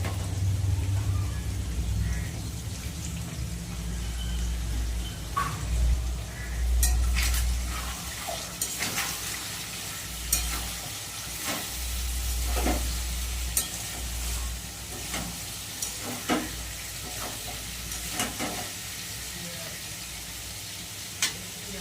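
Chopped garlic and onion fry in a pan, with a steady sizzle under repeated scraping strokes of a spoon and occasional metal clinks, close and continuous for over twenty seconds, with no speech.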